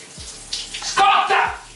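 A household shower sprays hot water in a short, close burst of hissing splashes, with a voice heard over the running water.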